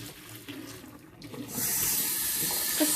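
Hot water pours out of a pot of boiled eggs in a steady hissing splash, growing louder halfway through and continuing strongly to the end, with faint kitchen clatter underneath.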